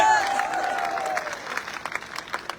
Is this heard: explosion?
no